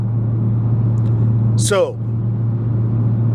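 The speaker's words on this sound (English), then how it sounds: "You can hear the tires squealing a little bit." Tires on a Toyota Supra squeal briefly mid-drive, a short rising chirp cutting through steady engine and road rumble, with someone talking over the car noise.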